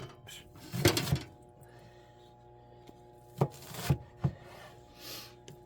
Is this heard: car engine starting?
no